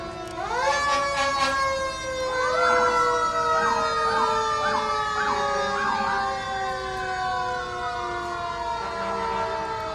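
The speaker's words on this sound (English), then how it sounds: "those sirens are not coming after you. It's part of the parade" Emergency vehicle sirens wail loudly and continuously during a Memorial Day parade, a rising and falling electronic tone with warbling bursts, close by and without talk.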